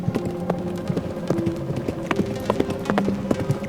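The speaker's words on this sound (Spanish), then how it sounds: "Se escuchaban solamente los cascos del caballo." Horse hooves clip-clop at a steady walking pace as an effect in a horror story, a close, even rhythm of hollow knocks on a hard surface over a faint background bed, with no speech.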